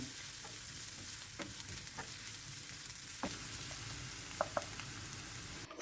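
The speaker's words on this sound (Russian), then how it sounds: "Обжариваю лук и чеснок до мягкости." Quiet steady sizzling of onion and garlic frying in a pan, with occasional soft stirring clicks and scrapes.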